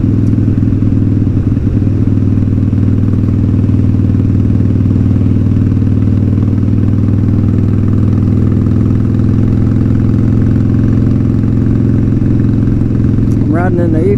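A Harley-Davidson Sportster 1200 rumbles steadily and loudly throughout an evening ride, its low engine drone continuous with wind noise, and a brief higher whine rises near the end.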